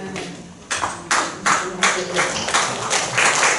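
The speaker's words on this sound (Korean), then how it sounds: "박수 한번 주께 해주셔서 감사드립니다" An audience in the main auditorium of a Christian federation hall claps during a Monday church worship service, with sharp, evenly spaced group claps in a steady rhythm, close and fairly loud.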